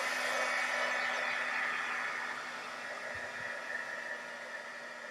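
Heat tool blowing steadily to dry texture paste on a mixed-media craft project, a constant close whooshing hiss that eases slightly in level, no talking.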